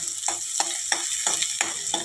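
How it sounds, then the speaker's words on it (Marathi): Chopped onion and garlic sizzle steadily in a pan, close and loud, while a spoon stirs them in a regular scraping rhythm about every third of a second. "1 ते 2 मिनिटपर्यंत सतत हलवत कांदा आपल्याला छान परतून घ्यायचा आहे।"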